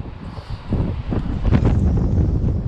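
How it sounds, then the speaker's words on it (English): Strong wind buffets the microphone while bass fishing with a crankbait in gusts near 50 mph, a steady roaring rush that swells louder toward the end, with no talking. "Look at this wind."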